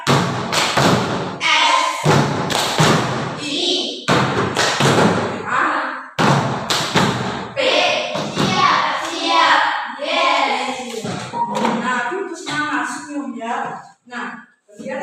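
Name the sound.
class of children doing the 'tepuk siap' clapping chant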